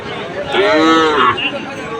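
A single loud moo from a native cow at a calf market, drawn out for about a second, close by, with faint background murmur around it.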